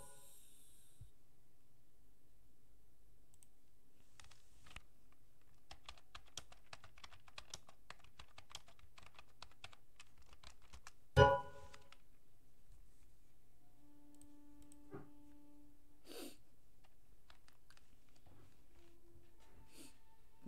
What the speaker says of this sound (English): keyboard and mouse.